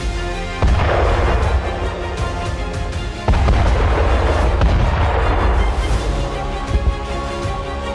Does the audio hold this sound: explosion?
yes